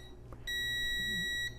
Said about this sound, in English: you hit the start button, and that's your countdown timer